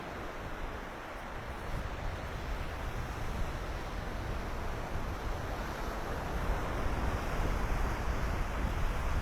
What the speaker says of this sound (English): the waves are gorgeous, aren't they?